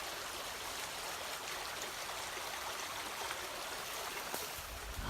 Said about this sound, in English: There's the creek down there,